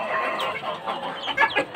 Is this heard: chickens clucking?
yes